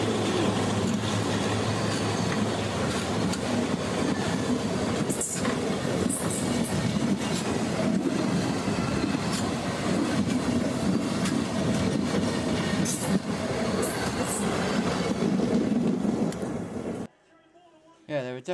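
A locomotive in Train Simulator Classic rolls with a loud, steady rumble and clickety-clack, a faint wheel squeal above it, cutting to near silence just before the end.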